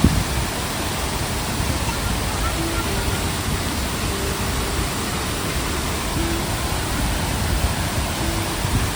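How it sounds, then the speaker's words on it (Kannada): Steady broadband rush of water from a small waterfall near Dudhsagar, heard close and continuous throughout at moderate level. "ನಿಮ್ಗೆ ಇಲ್ಲಿ ಕೇಳ್ತಾ ಇರ್ಬೋದು ನೀರಿನ ಸೌಂಡು ಎಷ್ಟು ಕೇಳಿಸ್ತಾ ಇದೆ ಅಂತ"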